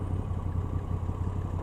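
A Moto Guzzi V85 TT with shaft drive, no chain, idles steadily nearby. Its low, even engine rumble carries a faint mechanical clatter and holds constant throughout.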